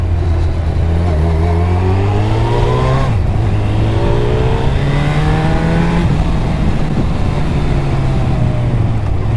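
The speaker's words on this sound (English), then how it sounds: "Shall I rev the engine? Bit of a noise test for Jack." A car engine revving repeatedly up and down, close and loud, with rising and falling whines over a steady idle rumble.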